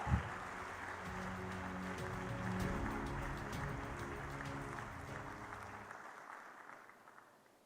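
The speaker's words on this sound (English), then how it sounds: "Give him a big round of applause." A conference audience applauds a speaker joining by video link, a fairly quiet, even spread of clapping across the room that holds steady for several seconds and then fades out.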